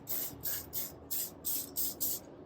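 Short bursts of high heat oil sprayed onto the door gasket of a Traeger Ironwood XL pellet grill, seven quick even hisses in a steady rhythm, close and fairly quiet.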